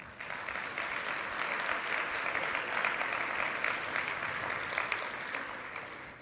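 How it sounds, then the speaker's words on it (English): Steady audience applause for a morning event's sponsor, a dense, even wash of many hands clapping that holds at an unbroken level for several seconds. "So please, a round of applause for our sponsor this morning,"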